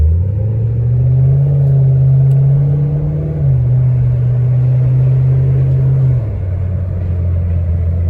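A Ford Mustang GT with the 3V V8 engine and FRPP cams idles loudly up close, a deep, lumpy rumble that settles briefly lower midway, then drops again near the end.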